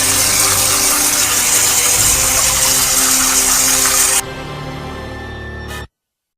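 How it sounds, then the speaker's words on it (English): A steady hiss of tap water runs into a bathroom sink while someone washes their hands. The flow turns quieter near the end, then cuts off abruptly. "someone is washing their hands. And within the sink contains pink water"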